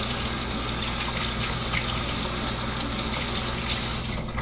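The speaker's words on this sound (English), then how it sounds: "rinse them in cold water quick." Cold tap water runs steadily into a kitchen sink as food is rinsed under it, a continuous close gushing splash lasting the whole stretch with no talking.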